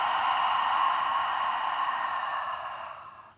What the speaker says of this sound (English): when we're breathing out through our mouths, I want you to really suck those abdominal muscles in nice and tight